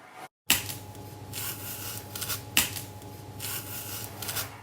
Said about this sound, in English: it was peeling a banana